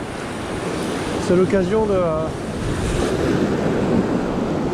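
Strong coastal wind buffets the microphone with steady roaring noise alongside surf, during lure fishing from the shore on the island of Groix; someone talks over it.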